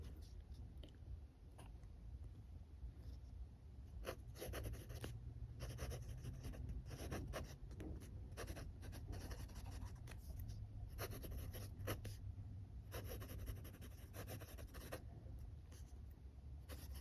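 A fountain pen scratching across paper in short, close bursts of strokes, quiet and dry, with small pauses between words of handwriting and no talking.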